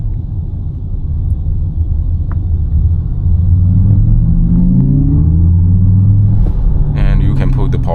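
A Xiaomi YU7 MAX electric SUV of 690 PS pulls hard on a mountain road, a loud close cabin rumble with rising and sweeping drive tones as it accelerates, and a voice talks over it.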